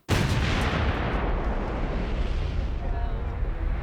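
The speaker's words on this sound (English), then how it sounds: "those will be very, very carefully prepared vehicles which will completely blow apart" A specially prepared vehicle blows apart in a film stunt explosion for a war-movie sequence, a sudden loud close blast that opens the clip and then rolls into a long roaring rumble that slowly fades.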